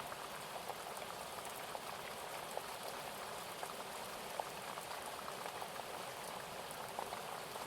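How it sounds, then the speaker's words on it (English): Steady rain from an approaching storm patters against windows, a dense, even hiss of drops with occasional louder taps, soft and continuous with no voices. "large raindrops striking the windows"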